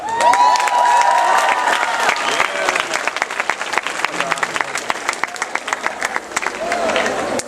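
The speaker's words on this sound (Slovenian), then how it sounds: "Najprej en aplavz za prvošolce." Lively applause for first-year students at a start-of-school-year concert at a Slovenian secondary school, with many hands clapping and some cheering and shouting from the crowd, loud at first and continuing steadily, with voices mixed in.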